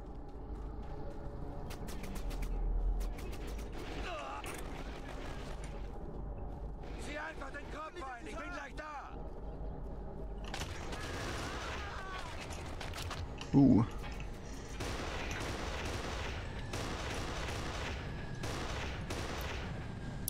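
Bursts of gunfire and fusillade from the shooter video game Kane & Lynch 2: Dog Days, with repeated volleys across the stretch, one sharp loud shot near the middle, and someone talking over the game action.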